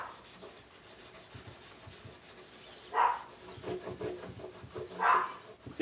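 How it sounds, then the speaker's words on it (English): A rag wipes down a new Martin acoustic guitar along the grain, making soft, close rubbing strokes with a continuous cloth swish that swells into two louder passes. No voices are heard. "I take the other side of the rag, and I wipe it down."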